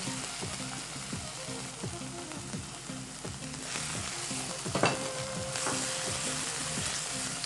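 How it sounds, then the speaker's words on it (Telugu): Cashew paste added to a frying pan of tomato paste and stirred in, a constant low sizzle with rhythmic scraping strokes of a spoon and a sharper clatter midway, close and without talk. "ఇది కూడా ఫ్రై అయిందండి. జీడిపప్పు పేస్ట్ వేసుకుందాం."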